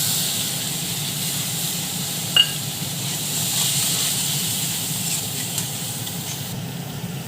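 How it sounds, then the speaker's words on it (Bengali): Cumin, coriander and turmeric powders mixed into a water paste sizzle steadily in a hot pan while cooking pointed gourd dorma, a continuous close hiss with one brief click partway through. "জিরে গুঁড়ো ধনে গুঁড়ো আর হলুদ গুঁড়ো একসঙ্গে আমি জলে গুলে রেখেছিলাম সেটা আমি এরপর দিয়ে দিলাম"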